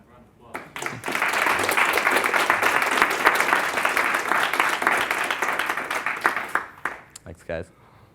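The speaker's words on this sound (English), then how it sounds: "Give Robbie a round of applause." Audience applause breaks out after a talk on merging inner and outer game, a dense, steady burst of clapping from a crowd lasting several seconds before thinning into scattered claps.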